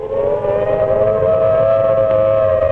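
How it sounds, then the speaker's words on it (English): A loud, steady wailing civil defense siren holds one sustained tone throughout, droning continuously with no pauses or talk. "Children are shown playing in a schoolyard when a siren goes off."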